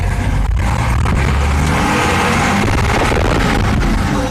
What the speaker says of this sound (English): Again, I'm going to take off in third gear.